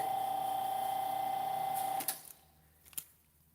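An electric hydraulic vehicle lift runs for about two seconds with a steady motor whine and hum, then cuts off, followed by a couple of faint clunks as it settles.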